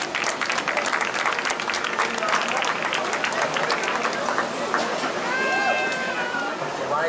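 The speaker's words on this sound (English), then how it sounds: "Let's give them a big round of applause." Applause from the crowd at a junior livestock show as the grand and reserve champion exhibitors are honoured, steady dense clapping throughout with babble underneath.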